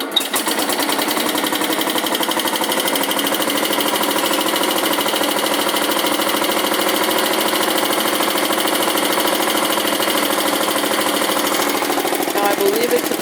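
An old lawn tractor engine, believed to date from 1971 or 1972, runs at a steady idle with no throttle or choke, giving a fast, even mechanical chatter that continues unchanged throughout.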